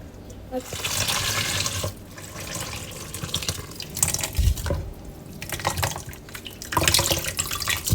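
A kitchen tap runs water into a sink for rinsing while making a Jamaican coconut cake, a steady splashing flow with brief breaks and small clinks, close and fairly loud.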